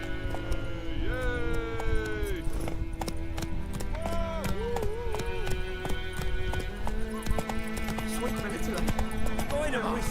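Geralt's horse Roach gallops in The Witcher 3, its hooves drumming in a fast, continuous clip-clop rhythm up close, with a neigh and a voice speaking over the running hoofbeats.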